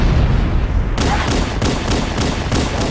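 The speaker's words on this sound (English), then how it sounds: "I guess the explosion doesn't take him out on heroic like I thought it did." An explosion in Halo: Combat Evolved, heard as a loud dense rumble followed by a series of sharp, evenly spaced blasts or shots close up, with no talking.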